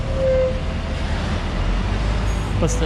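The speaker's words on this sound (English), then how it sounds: "we're gonna take this train" A Macau Light Rail Transit train rolls nearby with a loud, steady low rumble and a brief tonal whine, heard from a station area close to Taipa village.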